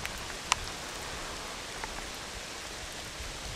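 Heavy autumn rain pours steadily over a road construction section between Sabile and Kandava, where work has stopped after a rain-caused landslide. It makes a continuous even hiss with a few faint isolated drops and no talk.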